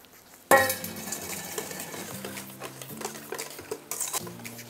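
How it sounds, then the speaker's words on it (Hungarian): Eggs being mixed with powdered sugar in a bowl for a Dobos torte: an opening clatter, then rhythmic stirring and whisking with light clinks against the bowl, close and alone. "Először a tojásokat a porcukorral összekeverjük."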